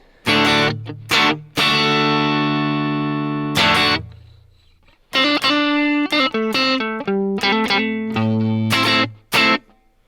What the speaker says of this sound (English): I just have some overdrive here on the Protein